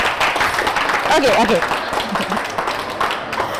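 Students in a classroom workshop clap briefly for a classmate, a light scattering of hand claps under a teacher's voice, with other voices chattering in the room.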